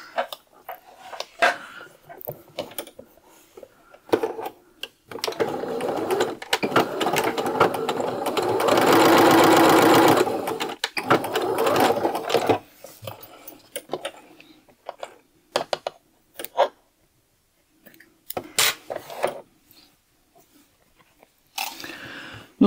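A sewing machine stitches a button placket in a long steady close run of rapid needle clatter, with shorter bursts of handling and clicks before and after and someone speaking French at times.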